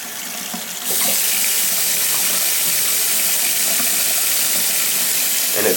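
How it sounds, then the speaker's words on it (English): Tap water runs steadily into a bathroom sink drain being checked after unclogging. After a second of quiet it starts abruptly as a loud, continuous, even rush that carries on to the end. "just put your finger there and run a little bit of water and see if it goes down for you"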